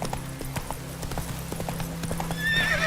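In The Witcher 3, the horse Roach gallops with rapid, rhythmic hoofbeats clopping close and steady, accompanied by occasional neighs and a faint game soundtrack beneath.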